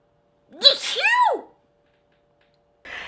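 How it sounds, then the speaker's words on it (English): One close, loud human sneeze comes with a sharp gasping intake that breaks into a forceful burst, then quiet, followed by a short breathy sound. "I'm gonna sneeze."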